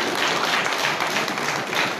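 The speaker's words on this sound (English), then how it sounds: "Clap for Elijah." An audience claps steadily for a graduate at a youth empowerment graduation ceremony, a dense, loud wash of applause with no breaks.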